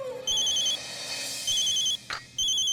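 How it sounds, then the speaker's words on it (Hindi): An electronic telephone ringtone trills in repeated bursts with short pauses, loud and close, with a brief rustle in one gap. "किसका फोन है?"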